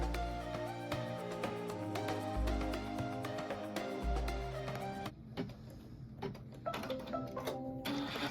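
An embroidery machine stitches the tack-down on a Kimberbell Main Street Celebration bench pillow Welcome quilt block, a steady rapid mechanical whir and ticking that runs continuously and loud, shifting to lighter, more broken stitching near the end.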